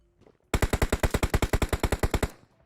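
Automatic gunfire in the mobile battle-royale game PUBG Mobile: one loud burst of about seventeen rapid, evenly spaced shots, close and alone, after a brief quiet lead-in.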